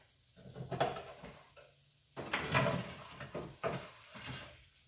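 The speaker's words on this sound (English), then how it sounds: "So now I'm just going to drop it over in the pan and stir it up" Chicken and shrimp pasta hits a hot pan and gets stirred, giving soft scrapes, clinks and a light sizzle in irregular bursts close by.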